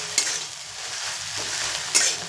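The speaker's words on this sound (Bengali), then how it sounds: "এভাবে করে নাড়াতে থাকবো।" Ginger-garlic paste frying in oil for a chicken curry, stirred steadily: a continuous close sizzle with two brief scraping spoon strokes against the pan, no voices.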